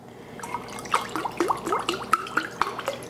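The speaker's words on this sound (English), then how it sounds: "If you flip the carton over, you won't get the glug, glug, glug. You'll get a nice even pour." Chicken broth pours from an upturned carton into a pot in a smooth trickling stream, with splashy drips and liquid bubbling close by and no talking.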